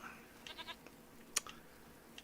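A few short, thin bleats from goats in the video game Farming Simulator 25, scattered and fairly faint, with soft background ambience and no talking.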